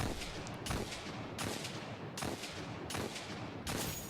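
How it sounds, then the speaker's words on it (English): Hawkmoon hand cannon from the video game Destiny 2 firing, a string of loud, sharp shots about once every 0.7 seconds, each a broadband crack with a short tail, over continuous game noise. "Oh, hand cannon. It's Hawkmoon."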